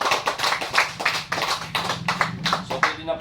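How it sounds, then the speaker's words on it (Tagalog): A church congregation clapping together during worship, a loud run of rhythmic hand claps with voices audible beneath and between the beats. "Malakas na palakpak para kay Yahweh Shaddai."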